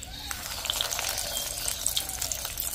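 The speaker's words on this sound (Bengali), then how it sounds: "এবারে এক এক করে আমি চিকেন চিজ বলগুলো ভেজে নেব।" Chicken cheese balls dropped one by one into hot oil in a wok give off a steady, close sizzle and crackle with fine popping bubbles, and no voices are heard.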